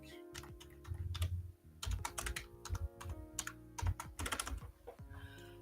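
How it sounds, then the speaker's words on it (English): Quiet, steady typing on a computer keyboard, with irregular bursts of rapid key clicks separated by short pauses, close and alone without talk. "Let me type in stream link."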